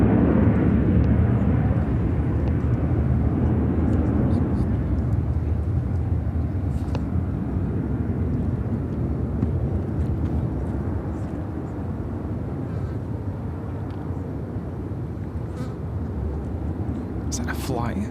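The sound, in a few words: Spirit Airlines Airbus A321 taking off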